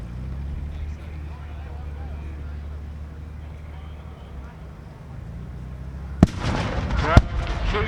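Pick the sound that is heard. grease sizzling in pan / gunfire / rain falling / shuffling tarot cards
gunfire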